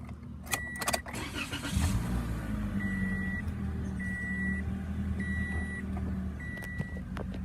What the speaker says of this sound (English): So now we're just gonna start it up so I can put the steering wheel straight.